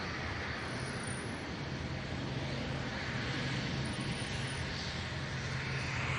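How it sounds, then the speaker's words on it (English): Loganair ATR 72-600 turboprop landing at Manchester Airport, a steady distant engine drone throughout with faint passing traffic-like noise, no speech. "It's an ATR 727-600, Loganair flight 693, arriving from the Isle of Man."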